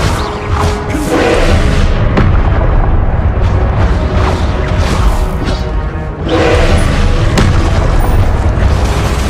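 Repeated blasting-spell explosions from Hogwarts Legacy combat, loud low booms and crashes rolling almost continuously, with a brief lull near the middle before the bursts resume.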